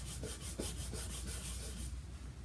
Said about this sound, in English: We'll rub around.